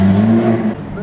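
A car engine idles with a steady hum and rises slightly inside a Porsche museum garage, sounding close and fairly loud before dropping off after about three quarters of a second.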